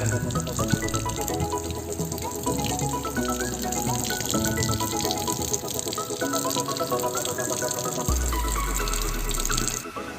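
Water runs steadily while rinsing a car, a continuous close gushing and splashing that plays under bright background music and shifts tone near the end.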